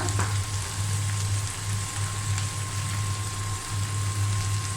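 Okra fries in a pan with turmeric and coriander powder, giving off a steady, dense sizzle that holds at an even level throughout, with a low hum beneath and no voices.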